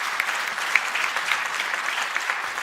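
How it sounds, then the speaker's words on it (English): A conference audience at a national space science event applauds steadily as a speaker takes the stage, an even wash of many hands clapping without a break. "A round of applause for him as he takes the stage."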